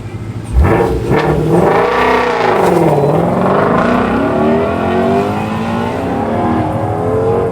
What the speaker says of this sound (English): Eric Sheely in a station wagon versus Ken Yo in a Corvette